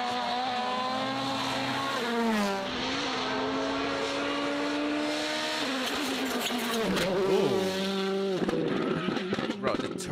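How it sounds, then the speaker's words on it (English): A rally car's engine roars and whines up and down through gears, with a high turbo whistle and fluttering spooling over the steady, loud drone. "the turbo sound is so insane."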